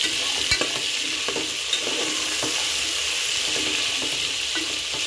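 Green peas are stirred into frying potato sambar in a pan, a loud close sizzle with spoon scrapes and gentle stirring knocks throughout.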